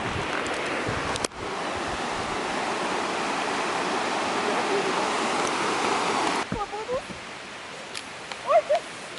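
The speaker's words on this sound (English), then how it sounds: "there's definitely a river." Steady broadband rush of river water flows continuously for most of the stretch, broken by a sharp knock early on, then thinning near the end where brief bird-like chirps and faint voices poke through.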